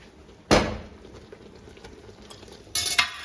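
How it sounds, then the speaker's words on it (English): Teiglach in a pot of syrup being stirred after ginger is scattered over, heard as two short spoon scrapes and clunks separated by a quiet stretch, close by and without speech. "I will now show you how I will scatter the ginger over and give it a stir."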